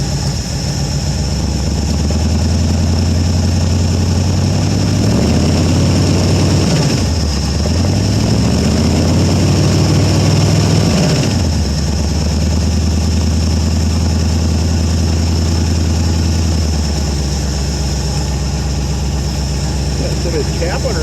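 A 1973 Ford Gran Torino Sport's 351 Cleveland V8, revived after 30 years off the road, runs loud and close with a steady low rumble and a couple of brief revs in the middle.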